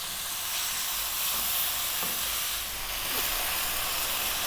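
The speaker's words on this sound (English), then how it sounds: "What we're going to do here is cook this until the tomatoes have really broken down" Tomatoes cook down in a pan for a tofu coconut curry, giving a steady, moderately loud sizzling hiss that holds evenly throughout with no talking.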